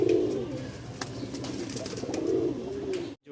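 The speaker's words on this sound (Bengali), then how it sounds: "এক জোড়া দেখতেছেন লাল মাক্সি রাজশাহীর উড়াবাজি গিরিবাজ" A pair of red-mottled Rajshahi giribaz flying pigeons, male and female, coo in low throaty rolling phrases close by, with a few sharp clicks and rustles between calls and no talking.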